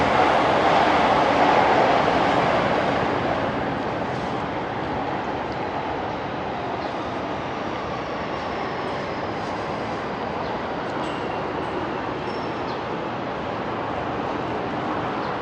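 A train rumbles along elevated tracks overhead on a Tokyo street in mid-April, loudest in the first few seconds and then settling into a steady broad roar that fills the whole stretch.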